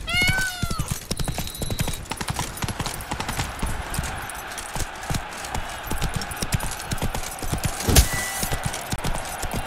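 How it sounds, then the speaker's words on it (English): Hooves clip-clop in a fast, rhythmic gallop in The Witcher 3, close and steady, with a horse whinny near the start and a brief jingle of tack. "Run, Roach."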